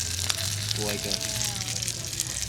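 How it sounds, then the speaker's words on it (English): Food sizzling and frying in a hot pan at an outdoor off-road wheeling gathering, a steady crackling hiss under low engine hum, with a voice briefly heard. "Let's do the sizzle test."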